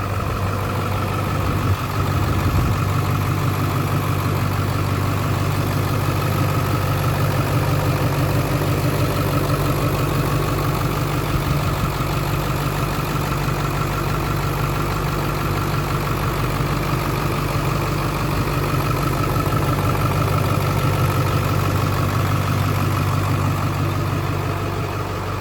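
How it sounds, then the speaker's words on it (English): A 2001 Ford Excursion Limited 4x4 with a Power Stroke diesel idles outdoors, a loud, steady low diesel rumble with an even clatter that holds unchanged and uninterrupted throughout. "so we'll let the diesel run outside."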